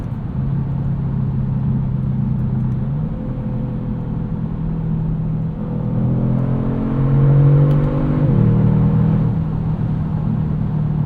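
A 2022 Kia Stinger GT2 AWD V6 engine hums steadily, then builds as the exhaust rises in pitch through acceleration, with a gear shift and a deeper resonant drone from inside the cabin.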